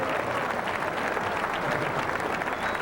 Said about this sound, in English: Let's have a big round of applause for Mr. George Gomez, designer of NBA Fast Break.